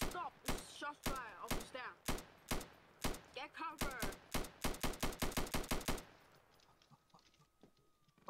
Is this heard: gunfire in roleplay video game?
yes